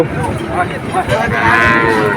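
A calf moos at a busy village cattle market in Betaga, a loud, close, drawn-out bellow lasting about two seconds over a faint crowd murmur.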